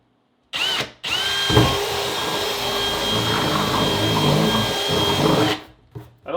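A power drill whirs loudly and steadily for several seconds as it bores and reams a hole for a reverse osmosis water filtration system, with brief starts and stops at either end.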